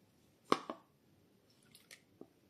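Homemade butter being worked by hand to press out buttermilk, giving a few soft, wet squelches and drips, close and faint, with quiet gaps between.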